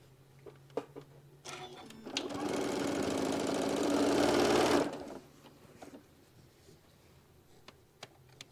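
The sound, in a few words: sewing machine stitching a quarter-inch seam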